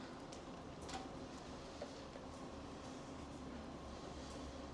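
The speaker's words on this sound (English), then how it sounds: "Because our train should be coming soon." A SkyTrain metro train in Vancouver pulls into the station with a steady low rumble and faint wheel and rail noise, fairly distant and even throughout.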